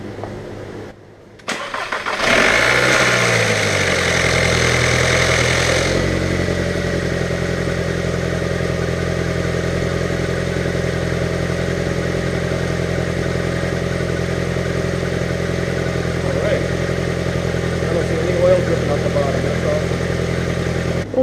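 A Volkswagen Jetta 1.8T engine cranks briefly, catches and settles into a steady idle, the start loud and close, followed by a long, even idle rumble.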